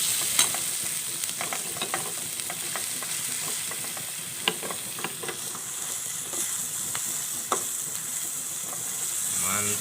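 Soybean sprouts stir-fried in a pan, a continuous hiss and sizzle with scattered spatula scrapes and clicks throughout, close and steady, without speech.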